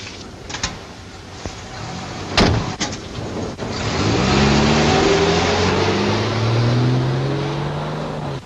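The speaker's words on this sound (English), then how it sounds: "Somebody step on the starter." A car engine in a 1950s film scene cranks over and catches, rising into a steady low running hum with a broad, even rumble after a few clicks and thumps of movement.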